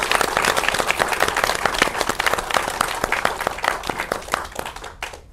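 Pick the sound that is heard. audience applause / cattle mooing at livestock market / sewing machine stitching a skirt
audience applause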